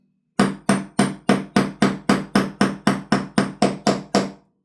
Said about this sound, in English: Now I need to try and hold this in place while I tap it.